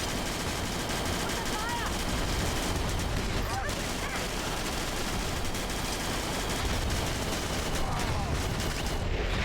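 Battalion Wars video game battle gunfire: dense, continuous rattling bursts of rifle and machine-gun fire with booming shots, steady throughout against in-game noise and some voices.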